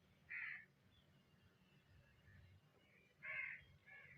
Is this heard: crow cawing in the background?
yes